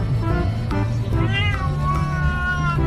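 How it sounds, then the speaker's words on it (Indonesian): An orange cat meows loudly and close up, giving a series of drawn-out, rising and falling yowls that sound somewhat angry, with no talk over them. "Bahkan kucing ini tuh bisa disuruh ngomong Allah."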